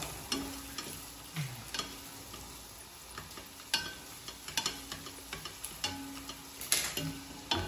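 Garlic sizzles and crackles while being sautéed in a pan, with steady frying hiss and repeated scraping stir clicks from a utensil, close and continuous with no talking.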